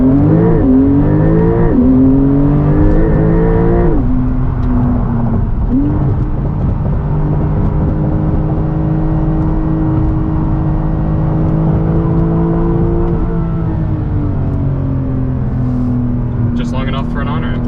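A 2021 Porsche 911 Turbo S accelerating from inside the cabin, the engine tone rising and falling through several shifts before settling into a steady loud drone. Tonal layers suggest occupants talking over it.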